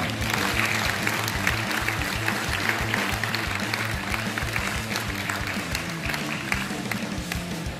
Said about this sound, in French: Vous pouvez les applaudir, je crois.